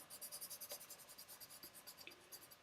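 A paper blending stump rubs charcoal into sketchbook paper in quick, steady back-and-forth strokes, making a soft, close, rhythmic scratchy swish, faint and with no one talking.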